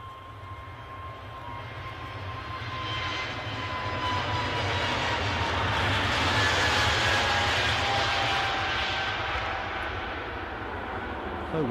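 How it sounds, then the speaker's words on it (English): An EasyJet Airbus A320 airliner moves on the ground at Edinburgh airport, its jet engines a broad steady roar that swells and then eases slightly, heard from a moderate distance with a faint whine over the rumble. "Oops, plane moving. I ought to be able to tell you what this is, but I can't. EasyJet A320."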